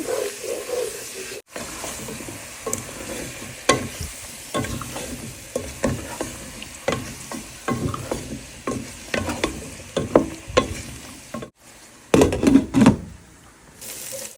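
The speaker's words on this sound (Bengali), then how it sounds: "মাছের মশলাটা কষিয়ে নিচ্ছি" Fish masala sizzling in oil in a pan while being stirred and scraped with a spatula, a constant frying hiss broken by frequent clattering scrapes and knocks, close by and with no one talking.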